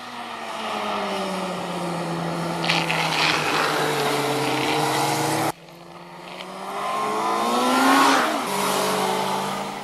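Suzuki Hayabusa motorcycle accelerating hard in third gear, a loud, rising engine whine that climbs steadily in pitch, cuts off abruptly and then picks up again, revving higher.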